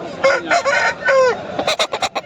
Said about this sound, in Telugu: చూడండి ఇది వచ్చేసి మనకు గాజు పుంజు అనమాట